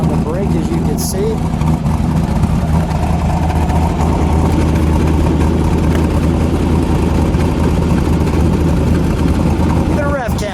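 A 1969 Ford Boss 429 Mustang with Kar Kraft factory specs idles loudly close by, a deep, steady, lumpy rumble that holds through the whole stretch with brief chirps near its ends.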